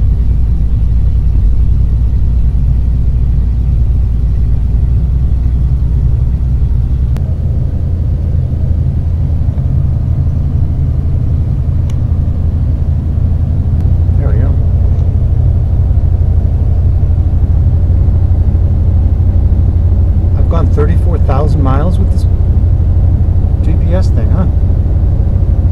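Engine of a 1982 Class C Fleetwood motorhome while driving, a loud, steady low rumble and road drone filling the cab throughout, with a few faint rattles and squeaks toward the end.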